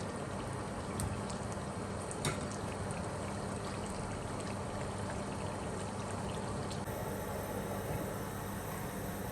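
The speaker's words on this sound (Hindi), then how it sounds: "पानी को आ गया उबाल, अब इसमें चावल ऐड कर देंगे।" Water comes to a rolling boil in a cooking pot meant for biryani rice, with green chili and lemon added, making a steady close bubbling and churning with a few sharp pops and clinks.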